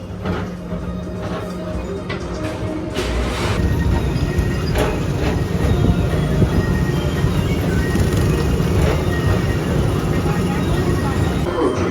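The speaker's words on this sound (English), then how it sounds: "Don't worry, your express train keeps on rolling through the future" A monorail train at Walt Disney World hums and rumbles steadily as it glides along, with a smooth continuous roar that swells slightly partway through.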